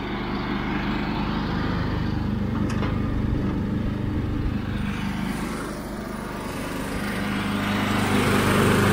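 A gas pressure washer engine runs steadily while warming up beside a house before a roof and house wash, a continuous loud motor drone with no break across the whole stretch.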